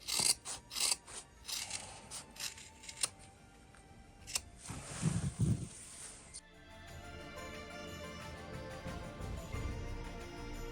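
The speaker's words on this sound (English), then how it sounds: "you can trim a little bit if you like. I'm gonna trim it." Scissors trim sewn fabric, making a run of quick, crisp snips up close. A softer rustle of cloth follows.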